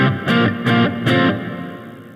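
Three distorted electric guitar chord hits sound in even succession through an effects unit, each ringing briefly before the next and the last one fading out, with no voices.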